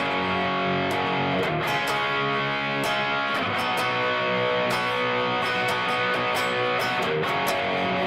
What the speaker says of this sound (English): when the chorus comes, like now we're playing with some more distortion